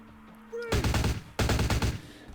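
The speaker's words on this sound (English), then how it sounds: "Of course, the explosion interrupted my feeding." Two loud, rough bursts of an explosion in the Vampire the Masquerade Bloodlines video game, each lasting over half a second with crackling gunfire-like texture, close and dominant after a quiet start.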